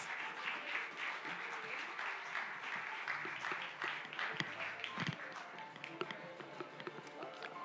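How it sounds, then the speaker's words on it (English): Audience applause greets Malaysia's Minister of Tourism, Arts and Culture as he walks onto the stage at a World Tourism Day event, a faint but continuous patter of many hands clapping with a few sharper taps. "Please give him a big round of applause."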